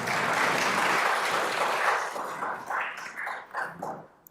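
Applause at a certified public manager program graduation ceremony, a dense round of indoor clapping that holds steady, then thins into scattered, uneven claps before dying out.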